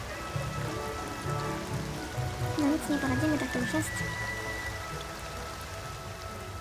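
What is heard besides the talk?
rain falling in the video game The Sims 2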